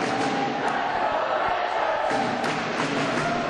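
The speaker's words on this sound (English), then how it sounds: "They're going to cheer this one down to the final second." Crowd cheering and yelling in an old high school gym during a boys basketball game, a dense steady roar of many voices filling the room without a break.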